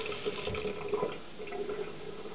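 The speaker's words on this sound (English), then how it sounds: "Just helps them a bit if you can pour some on the top here." Water poured from a glass over a seed tray of chilli seeds, a steady trickle and splash running through the whole moment, close and fairly quiet.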